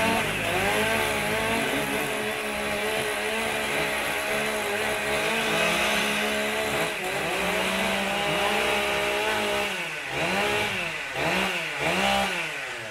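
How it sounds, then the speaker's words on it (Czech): Several chainsaw engines roar and rev together during a Stihl Timbersports warm-up, close and loud, their pitch rising and falling as the throttles are blipped toward the end. "Borci dostanou 15 sekund na to, aby si mohli zahřát motorovou pilu."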